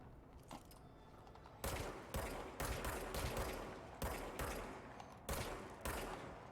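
Bursts of gunshots from the video game Control, a series of loud, sharp reports in quick clusters after a quieter start, each shot cracking with a short tail and following in an uneven rhythm.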